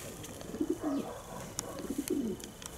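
Racing pigeon cooing in a loft, soft throaty rolling coos repeated several times at close range, with small clicks and faint background rustle, while someone talks.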